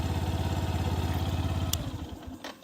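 A Yamaha FZS V3 motorcycle engine holds a steady high rev near the limiter, loud and close with a fast even pulse, then drops off sharply toward the end.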